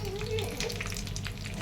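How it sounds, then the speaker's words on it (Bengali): Chilies frying in hot oil in a pan, a steady close sizzle with faint crackles running through the whole short moment. "আগে মরিচটা দিলাম।"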